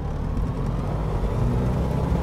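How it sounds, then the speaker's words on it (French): Small Rotax aircraft engine at takeoff power in Microsoft Flight Simulator 2020, departing Kirkwall, Scotland: a steady, loud droning hum with no break, heard alone. "Alors, vraiment un petit bruit de moteur Rotax."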